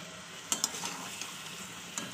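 Peas, potatoes and eggs stir-fried in a pan for a Bengali dish, with a soft steady sizzle and two sharp spatula scrapes near the start, plus a lighter tap later, close and alone without talk.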